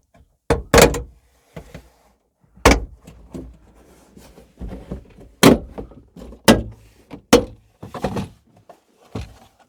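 Plastic trim panel clips on a Vauxhall Corsa D rear tailgate snap loose one after another as the panel is pulled off by hand, giving a series of sharp close clicks and thunks spread irregularly over several seconds with quiet gaps between.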